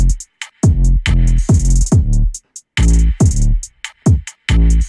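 Open hi-hat in a trap beat, bright sizzling hits riding repeatedly over heavy booming 808 bass notes and melodic synths, loud and close, no talking.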